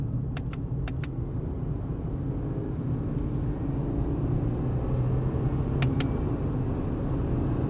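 A 2026 Subaru Forester with a CVT in manual mode drives along with a steady low engine and road drone inside the cabin, plus a few faint clicks, and no one speaking.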